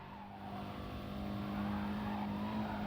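Race car at full speed on a track, engine holding a steady high drone with tire noise, continuous and close throughout, no talk.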